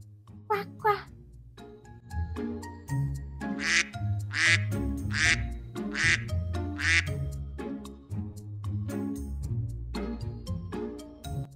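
A voice imitates a duck's quacking in a children's animal-sounds lesson, several short bursts in a row, with a child's speech and a background music bed around them.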